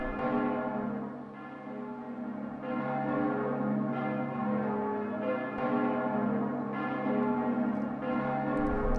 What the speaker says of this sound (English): Is that a bell of pilgrimage, Lady Aurora? Yes, it is. It must be Norwich's bell,